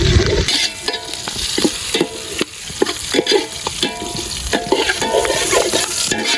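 Green chillies sautéing in a pan for an anchovy and tuber fish curry cooked outdoors in rustic style, a steady close sizzle broken by repeated scraping stir strokes.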